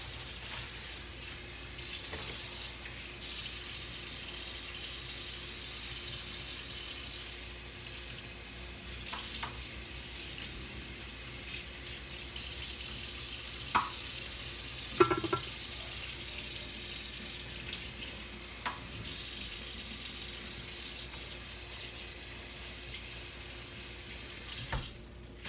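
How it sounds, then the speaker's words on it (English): Chayote halves blanching in a pot of water, giving a steady bubbling, watery wash with faint sizzle and a few sharp knocks and clinks, close and alone without talk. "And I'll just blanch all of them in the water with the ChoCho."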